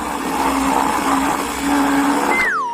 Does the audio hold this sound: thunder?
no